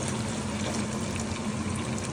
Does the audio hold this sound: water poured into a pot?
yes